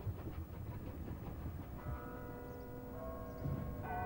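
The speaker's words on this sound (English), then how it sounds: "it's business as usual for a steam train of the Mid-Hants Railway." A Mid-Hants Railway steam train running through Hampshire countryside, a low rumbling roll with distant tonal ringing layered over it, steady and fairly faint throughout.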